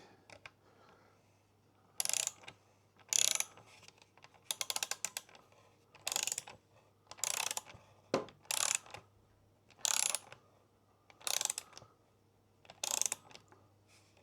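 Ratcheting wrench clicks in short rapid bursts, about ten separate runs spaced a second or so apart, as a bolt is tightened on the handguard extension of a BMW R1250GS motorcycle; close and fairly quiet, with no talking.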